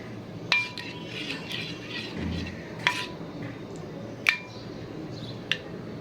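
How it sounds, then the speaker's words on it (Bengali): A spoon stirs and mixes pitha batter in a bowl, making a soft steady scraping with four sharp metallic clinks against the bowl, close and fairly quiet. "মিক্সটা একটু ভালো মতন করবে।"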